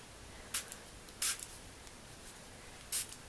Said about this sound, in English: spray a bit of water, and I'm spraying up that way.